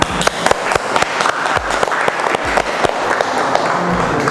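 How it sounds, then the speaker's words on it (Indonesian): A classroom full of people claps together, a burst of steady applause with sharp individual claps, close and fairly loud. "Tepuk tangan."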